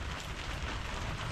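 A soft, steady patter of light rain falling on a surface, continuous hiss without voices.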